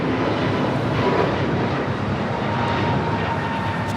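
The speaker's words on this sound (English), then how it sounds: "that was China Cargo Airlines Flight 221 coming in from Shanghai in the 777" A China Cargo Airlines Boeing 777 inbound from Shanghai lands at Los Angeles International Airport, its engines a loud, steady broadband roar that holds throughout.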